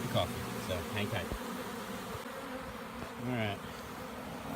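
Steady buzzing of many honeybees at an open hive hums close by throughout, with a few louder passes swelling in and out; no one speaks.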